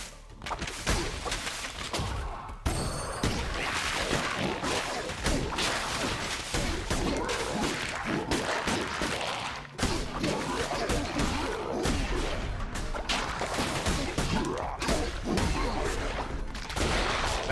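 Bombs exploding in Cult of the Lamb, a dense run of booming blasts and crashes repeating throughout amid busy game sounds and occasional talk.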